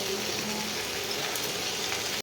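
Spinach sizzles steadily in a hot frying pan, a dense continuous crackle that stays even and close throughout before cutting off abruptly at the end.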